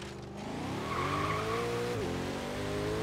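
A Bugatti Veyron launches hard in Forza Horizon 3, its engine tone climbing steadily through a gear with a brief dip near the shift, loud and close, with a faint tire squeal.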